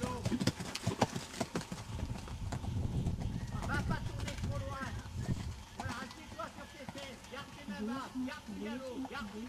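Horse galloping in a riding training session, rhythmic hoofbeats thudding close and steady while a rider or coach calls out in French, with birds chirping faintly in the background.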